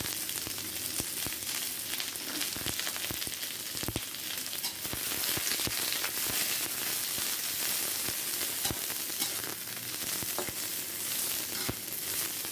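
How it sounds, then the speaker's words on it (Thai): Garlic and chilies dry-roasting in a pan, producing a steady, loud crackling sizzle with dense popping that runs continuously throughout, close and without any voice. "ดี๋ยวเราจะคั่วให้หอมกระเทียมพริกสุก"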